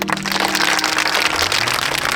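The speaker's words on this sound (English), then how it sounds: "let's give them a round of applause" A crowd applauds a rebuilt house, newly named the Beast Philanthropy House, in a village rebuilding project. The clapping is dense, steady and loud, filling the whole moment without a break.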